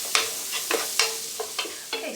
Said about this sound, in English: so while we're waiting for our onions to fry